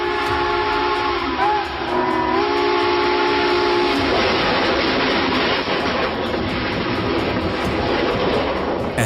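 Train passing after striking a big rig truck, a loud continuous rumble and roar with a sustained whistle or horn tone early on, close and steady throughout.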